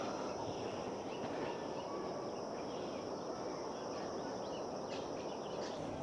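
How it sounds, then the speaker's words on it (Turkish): In the mountains of Kafiristan, Pakistan, a river flows below as a steady broadband rush, with faint high bird and insect chirps layered over it at a distance. "Aşağıdan nehir geçiyor. Onun sesi var. Kuşların sesi var."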